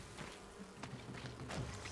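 Bees buzzing in the video game Enshrouded, a faint, steady insect drone with light scattered clicks and shuffling sounds over a couple of seconds, no talk.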